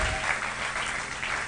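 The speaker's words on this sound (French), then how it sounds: "Applaudissez très fort pour le Seigneur" A church congregation at a French-language service claps hard in praise of the Lord, making a dense, steady wall of applause that holds evenly for the whole moment.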